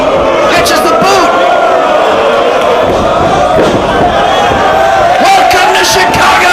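A dense wrestling crowd in Chicago roars and cheers continuously at an indoor independent show, loud and sustained throughout with occasional thuds beneath the noise.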